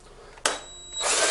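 A power drill boring a hole through a plastic belt cover on a Hustler Raptor SD60 mower, starting abruptly with a sharp bite and then a steady whine that rises louder near the end, close and alone.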